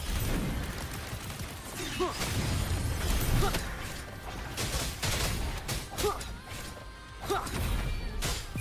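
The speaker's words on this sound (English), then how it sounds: "Another mortar thrown at us." Mortar fire and explosions in a video game thud and crash repeatedly amid a busy combat mix, fairly faint overall with layered impacts and whooshes.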